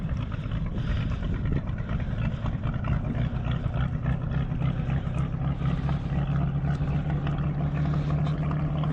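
A boat engine drones steadily and loudly, a low rumbling roar with a constant hum throughout, from a 1951 18-foot Penn Yan President inboard with a Gray Marine Phantom 6 112 dual-carburetor engine on a sea trial.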